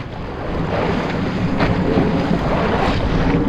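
Big sea waves surge around a small fishing boat off Cavite in strong monsoon wind, a loud continuous wash of water and wind buffeting with no talk.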